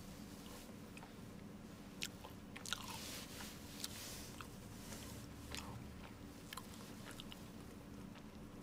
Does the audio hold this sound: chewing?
yes